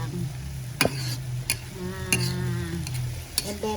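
Santol peel is stirred and fried in a pan, with scattered sharp scrapes and clinks of the utensil over a soft background sizzle, close by and without speech.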